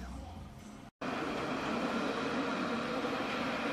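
A tram passes along rue Nationale in Tours at night, a steady broad rumble and hiss that fills the street at close range after a brief cut.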